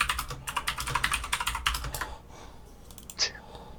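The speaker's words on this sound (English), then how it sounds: "This is your new mechanical keyboard?" Rapid clacking keystrokes on a new mechanical keyboard, a steady run of close, crisp clicks for about two seconds before stopping, followed by a quiet pause and one faint bump.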